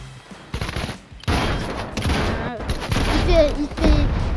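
Pump shotgun gunfire in a first-person shooter game, a scattered run of shots and impacts over busy game noise, with a voice speaking through part of it.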